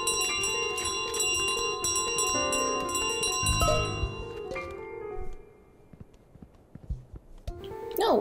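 A bell rings repeatedly in Untitled Goose Game, with bright clanging tones over game music and footsteps, then fading into scattered clatter while someone talks.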